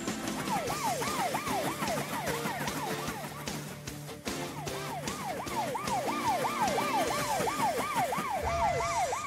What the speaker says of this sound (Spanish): Troy, ¿crees que puedas apagar las sirenas? Son muy molestas para Tony.